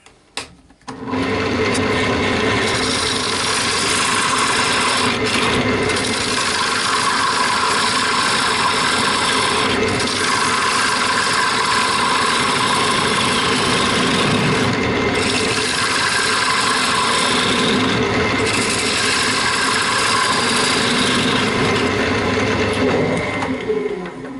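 On a woodturning lathe, a tenon is cut off a maple box, making a steady, loud, close whirring drone with continuous cutting hiss that holds nearly unchanged for over twenty seconds.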